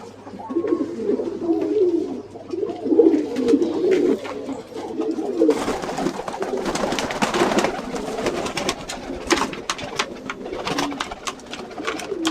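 Many pigeons coo and flutter in a dim room of a pigeon farm, a dense layered chorus of low throaty calls with occasional wing claps and rustling, close and continuous, with no talking.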